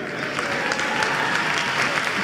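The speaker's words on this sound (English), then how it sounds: "Give a round of applause for the awkward re-entry." A conference audience at Big Omaha 2013 applauds a speaker's awkward return to the stage, giving steady, dense clapping that fills the room evenly from start to finish.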